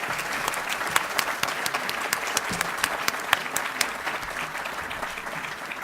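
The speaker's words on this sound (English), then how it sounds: "let's give our guests an applause" An audience at an ambassadorial panel discussion applauds warmly, a steady wash of clapping from many hands that continues throughout at a moderate, even level.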